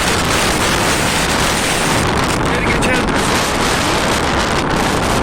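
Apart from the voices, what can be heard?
strong lodos wind storm in Ereğli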